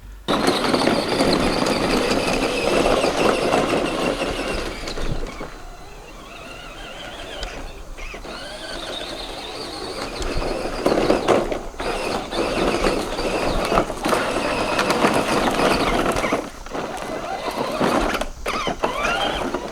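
Power Wheels ride-on toy converted to Milwaukee M18 batteries driving up and down a driveway, a loud whining electric motor and gear drone rising and falling with speed, with clunks and rattles, no talk.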